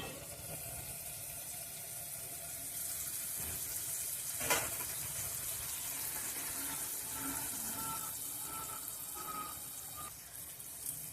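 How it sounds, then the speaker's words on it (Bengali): A spatula stirs a spicy fish curry of mourola fish and jackfruit seeds in a pan. A quiet, continuous sizzle runs throughout, with one sharp scrape partway through and faint intermittent clinks later on. "খুন্তি দিয়ে একটু নেড়ে দিচ্ছি বন্ধুরা।"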